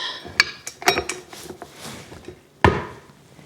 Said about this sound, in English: let's take this whisk attachment off, and then we're going to use the dough hook attachment